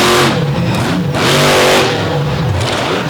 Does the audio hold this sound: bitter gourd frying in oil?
no